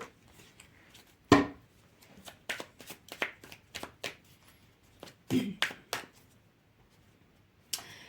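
Playing cards are shuffled by hand at a table in crisp riffling bursts and soft slaps, with short gaps between them at close range.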